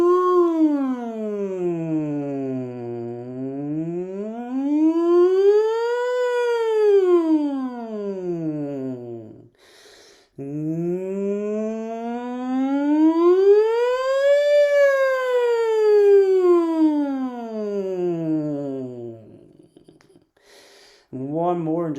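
Lower-voiced choir singers in a VOCES8 warm-up glide their voices smoothly up and down like a siren, two long rising-and-falling sweeps with a short breath between them, imitating a siren.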